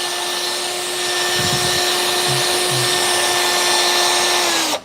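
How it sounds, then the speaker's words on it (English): A power drill spinning a mixer through material, a steady loud whine with a constant tone that runs unbroken and stops abruptly at the end. "Especially if you move it in the direction the drill's spinning, I can mix about as fast as I want to."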